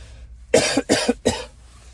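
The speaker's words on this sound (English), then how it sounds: "Oh, I got a cough." Three sharp, close coughs in quick succession, each a short harsh burst, with a brief pause between them; no talking.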